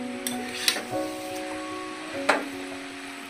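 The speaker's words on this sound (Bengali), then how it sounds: "খুন্তির সাহায্যে ভালোভাবে মিশিয়ে নিতে হবে আর ভেজে নিতে হবে" Chow mein noodles being mixed and fried with a spatula in a pan, soft sizzling under a few clinks and scrapes of the metal spatula against the pan, fairly quiet and close.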